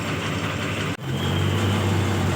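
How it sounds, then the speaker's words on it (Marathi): An Ashok Leyland MSRTC state transport bus engine idles at Miraj bus stand, a steady, close diesel rumble that dips briefly around one second and then settles into a louder, even low drone. "आजची आपली गाडी अशोक लेलँड कंपनीची असणार आहे"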